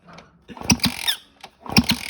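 High-pitched mechanical squealing chirps in two short bursts, mixed with clicks and whirring, from a Husqvarna TE250 motorcycle that will not start; close and fairly loud, with no talking.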